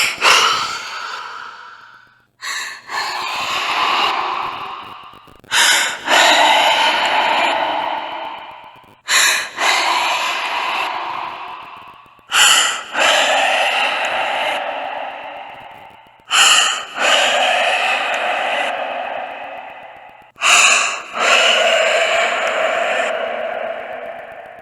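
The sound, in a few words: heavy breathing of a young girl behind the door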